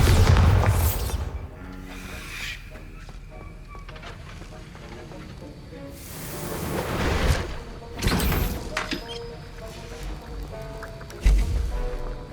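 Booming blasts from the Bombarda spell in Hogwarts Legacy, opening with a heavy burst, then a few more explosions at intervals over game ambience and music.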